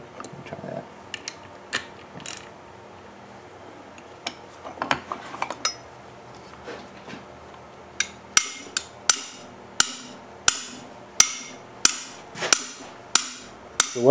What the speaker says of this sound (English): Maybe shock it loose with a magic hammer, Mike.